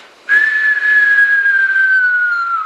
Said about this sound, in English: I heard this cartoon falling sound like a whistle